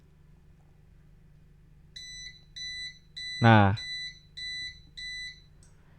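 An Arduino gas leak detector's buzzer sounds a steady series of clear, regular electronic beeps, loud and close, with a brief spoken word cutting in partway through.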